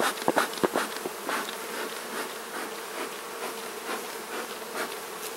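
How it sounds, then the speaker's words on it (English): Honey bees swarm around a hive being worked with a smoker, filling the air with a steady, close, dense buzzing, with a few sharp knocks near the start. "Blowing this smoke on the bees"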